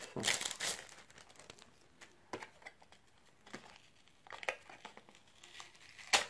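Crinkly plastic packaging crackles and rustles in irregular bursts as it is handled and opened up close, with quieter moments between.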